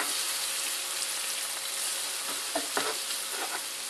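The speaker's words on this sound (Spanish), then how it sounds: "Ahora le vamos a echar la cucharada sopera de harina y lo vamos a rehogar." Chopped onion with a tablespoon of flour sizzles and fries steadily in a pan, a dense crackling hiss with a few brief stirring scrapes near the end.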